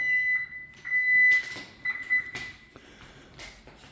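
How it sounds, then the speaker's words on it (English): A house alarm system keypad beeping as the front door opens, repeated sharp electronic tones in short bursts mixed with door clatter and movement nearby. "Alarm system"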